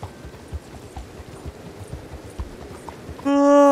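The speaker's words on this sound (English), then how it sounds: "Cavalo veio junto no teletransporte." Horse hooves clip-clop at a walking pace in Red Dead Redemption 2, close and distinct with a steady rhythm, cut off near the end by a sudden loud tonal game sound.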